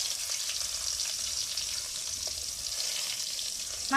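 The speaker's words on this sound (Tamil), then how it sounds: "சோம்பு பொரிஞ்சிருச்சு இதில் வந்து வெங்காயம் போட்டுக்கலாம்" Fennel seeds and onion frying in hot oil while cooking a sundakkai (turkey berry) fry, giving a steady, even sizzle and crackle that holds constant throughout, close and fairly loud, with no voices.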